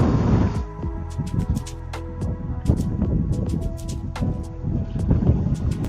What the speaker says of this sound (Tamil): காற்றும் பயங்கரமாக இருக்குது.